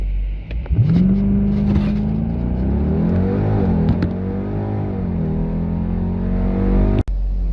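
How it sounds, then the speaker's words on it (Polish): A Dodge Durango SRT8 V8 running on LPG accelerates hard, its engine note climbing steadily in a loud, sustained roar heard from inside the vehicle, with one brief gear-shift dip before a sharp click at the end. "Postaramy się Państwu pokazać, jak auto przyspiesza na gazie."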